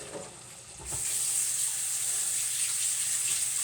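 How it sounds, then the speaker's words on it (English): Fingers are rinsed under a running kitchen tap. A faint rustle comes first, then a steady bright hiss of flowing water starts and carries on evenly and close to the end. "I gotta rinse them fingers"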